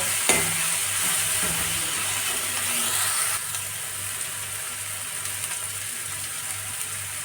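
Garlic paste and onion tempering frying in a pan for Punjabi kadhi pakora, a loud continuous sizzle with scraping stirring strokes and a clunk early on, no talking.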